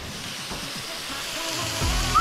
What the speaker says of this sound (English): He's chucking the kebab straight on the hot plate.